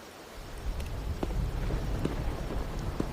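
Steady rain in the Wuthering Waves video game, a soft even wash of drops with a few faint sharper taps, no voices.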